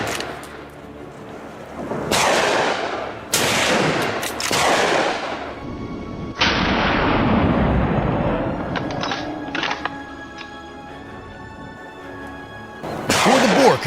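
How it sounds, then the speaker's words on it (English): Rapid gunfire aimed at a large wild boar: several loud, sharp blasts and bursts, each with a ringing, rumbling decay, spread over about fourteen seconds with no voices. "a rapid succession of shots rang out, felling the monstrous creature instantly."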